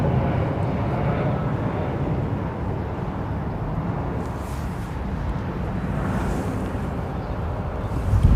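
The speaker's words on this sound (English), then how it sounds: "That's their 321 Neo." An Airbus A321neo airliner passes at Heathrow, a continuous broadband jet rumble with wind buffeting, steady and moderately close, with no talk over it.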